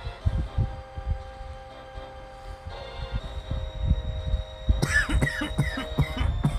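Several coughs from a person close to the microphone, with a sharper burst of coughing near the end over low background game music.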